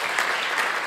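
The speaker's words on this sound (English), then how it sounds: "A round of applause." Brief, steady applause from an audience at the opening of a conference on training guidance professionals, a close, even burst of clapping lasting under a second.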